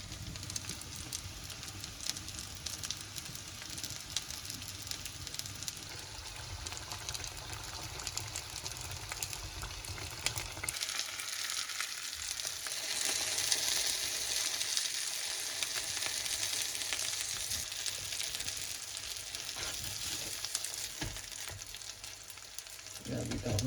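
Breaded chicken pieces frying in oil in a pan, a steady close sizzle and crackle running throughout, easing slightly midway before building again, with no talking.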